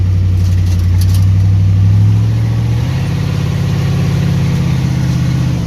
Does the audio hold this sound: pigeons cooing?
no